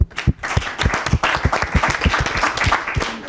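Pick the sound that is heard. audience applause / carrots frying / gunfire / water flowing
audience applause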